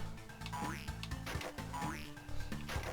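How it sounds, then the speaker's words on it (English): Cartoonish frog croaks from the sewer level of Crash Bandicoot: The Huge Adventure, a video game, repeating in a bouncy rhythm with springy pitch sweeps over a steady low musical backing. "the frogs from Crash 3 return as well, in the sewers"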